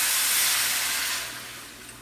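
Teriyaki sauce hits a hot pan of shrimp with a loud steady sizzle and hiss that gradually eases and softens toward the end, no voices over it.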